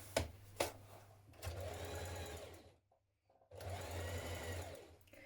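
A home sewing machine runs a small hem on a knit top, loud and close. Two quick taps come first, then a burst of steady whirring stitching, a brief silent pause, and a second run of stitching.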